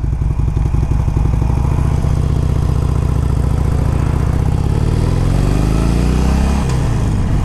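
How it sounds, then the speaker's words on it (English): A 2009 Harley-Davidson 883 Sportster rumbles loudly and close throughout a test ride, a steady low throbbing V-twin drone that rises slightly in pitch toward the end before easing off, with no talking. "It's like a moped with an 883 cubic inch motor."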